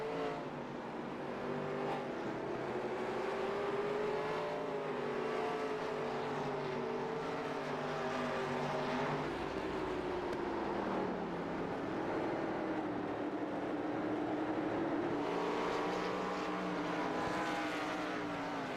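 Stock race cars lapping at North Wilkesboro, with the drone of several engines rising and falling as they circle the short track, heard from a distance throughout and without a break.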